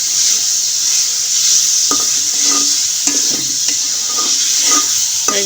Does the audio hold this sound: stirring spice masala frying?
yes